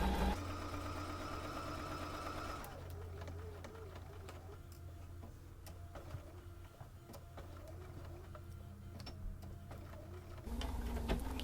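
A sewing machine stitches the seam of a log cabin quilt block, a steady mechanical whir running continuously at moderate level, with a brief louder burst at the start and near the end.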